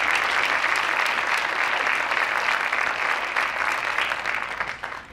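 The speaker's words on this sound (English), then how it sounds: "Let's give them one more round of applause" A large audience at a school academic awards assembly claps steadily and loudly, a dense wash of applause that holds for several seconds before starting to fade.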